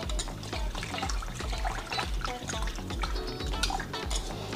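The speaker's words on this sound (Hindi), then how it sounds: "जब तक हम दाल को अच्छे से मसल के धोते हैं" Moong dal lentils are rubbed and washed by hand in a bowl of water, producing continuous wet sloshing, splashing and gritty swishing with occasional clinks against the vessel.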